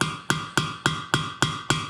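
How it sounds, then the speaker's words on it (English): A metal hammer taps a plug into an engine block with seven sharp, evenly spaced metallic strikes, each ringing briefly, close and fairly quiet. "You're going to need a metal hammer to tap it in there all the way."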